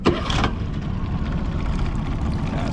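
Low, steady drone of an idling Honda 20hp outboard motor on a river, close by, running evenly with a brief wash of higher noise at the very start.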